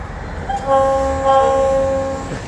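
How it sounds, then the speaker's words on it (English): The FEC Bayard local train sounds its horn nearby, a strained, oddly weak tone that holds briefly, breaks and sounds again over low rumbling rail noise. "Something wrong with your horn."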